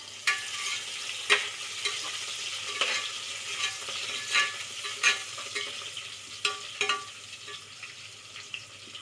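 Mint and coriander sautéed in a pan, a soft steady sizzle with irregular sharp scraping stirs of a spoon against the metal.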